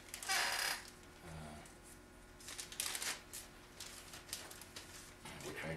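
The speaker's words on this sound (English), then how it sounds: "I'll put these back in the bag." Small pieces are put back into a plastic bag, producing crinkling, rustling bursts up close, loudest at the start and recurring faintly afterward.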